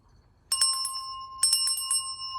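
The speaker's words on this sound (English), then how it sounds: "Altar bell." A small metal altar bell is struck twice, each ring a bright sustained chime with a long clear decay, sounding alone in a quiet room.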